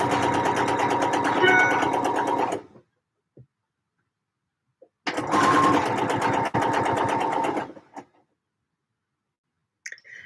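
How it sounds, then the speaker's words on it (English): A home sewing machine stitching dresses in a batch, running in two steady whirring bursts of a few seconds each, close, separated by a quiet pause with light clicks. "Yes, I'm batch sewing"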